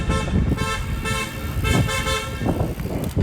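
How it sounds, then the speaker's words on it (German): Several car horns honk repeatedly in busy street traffic on Madeira, overlapping toots rising and falling over the steady rumble of engines, fairly close and loud. "da hupen alle"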